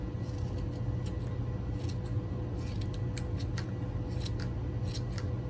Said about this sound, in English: Let's see if I trim like way short if I see the backing.